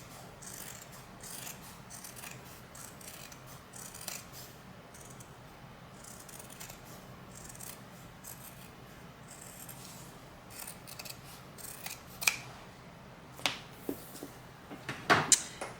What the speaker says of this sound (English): So I just want to cut a little bit of that off